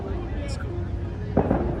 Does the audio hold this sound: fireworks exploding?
yes